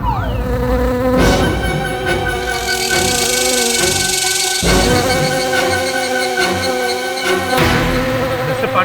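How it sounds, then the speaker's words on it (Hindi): A housefly buzzes steadily through a courtroom scene in a TV legal drama, circling continuously in a droning hum with shifting tonal layers and no talk. "मक्खी मेरी ओर आ रही है"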